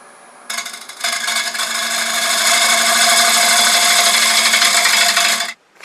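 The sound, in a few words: wood lathe turning, tool cutting into wood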